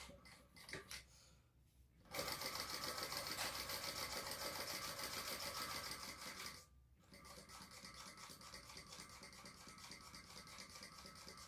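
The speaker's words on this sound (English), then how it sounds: "we're going to sew along here as well" A sewing machine runs long, even bursts of top stitching along a fabric sling, with a short pause between runs and a softer, steadier stretch afterward; no one speaks.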